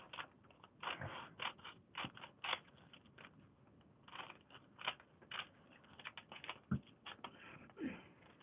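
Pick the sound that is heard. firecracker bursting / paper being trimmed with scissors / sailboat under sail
paper being trimmed with scissors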